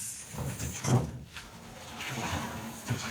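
Smooth interior doors slide in a $3,000 house, giving a couple of soft, close rolling sweeps with faint knocks against a quiet room.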